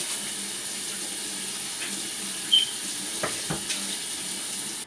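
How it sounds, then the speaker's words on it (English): Steady stream of tap water runs into a sink as hands are rinsed in a home kitchen, a constant hiss with a few faint splashes and clinks near the end. "I have to rinse my hands off"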